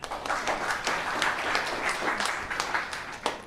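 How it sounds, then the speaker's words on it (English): An audience at a town council meeting claps for students being recognized, a sustained ripple of many hands with individual sharp claps popping out of the steady wash. "Let's go clap."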